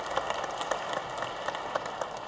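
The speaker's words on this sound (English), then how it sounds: "Round of applause for Tony." An audience at a Seattle Foundation civic forum claps steadily for its president, a soft, even patter of many hands with a few sharper claps, heard from a distance.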